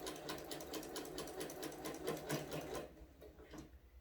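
A sewing machine stitches a quilted placemat with a steady fast whirring hum for about three seconds, then slows and stops, close and clear with no voices.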